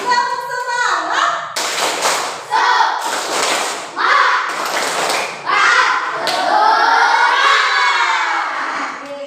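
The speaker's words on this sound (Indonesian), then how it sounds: "kita tepuk semangat bareng-bareng" An elementary school class and their teacher perform a tepuk semangat routine, bursts of rhythmic hand claps alternating with children chanting and shouting together in a classroom, loud and close.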